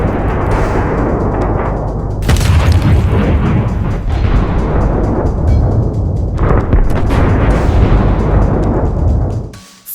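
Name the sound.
tank exploding, armor plates exploding after hitting a mine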